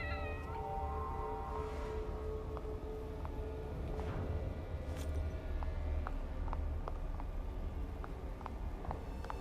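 A house cat meows close by, with loud drawn-out cries standing clearly over a steady low background hum for most of the stretch.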